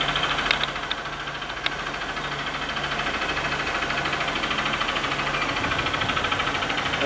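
A 2014 Honda Bros 150 motorcycle engine with a worn connecting rod idles close by, a steady mechanical running sound with a fast, regular knock throughout and a few sharper clanks near the start.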